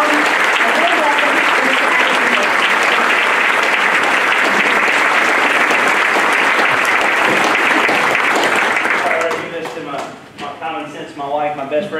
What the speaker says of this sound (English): Now please join me in giving a round of applause.